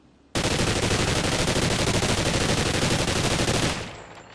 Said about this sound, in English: So we're going to go ahead, hip fire, and then aim down sights.